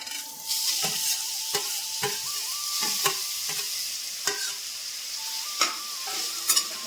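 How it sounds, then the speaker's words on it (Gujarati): Grated bottle gourd fries in hot Kankrej cow ghee, a soft steady sizzle under repeated scraping stirs of a spoon against the pan, with faint clanks between strokes. "ઘી ગરમ થઈ ગયું છે હવે જે આપણે દૂધીનું સીણ હતું એને એમાં અંદર ઉમેરી દઈશું"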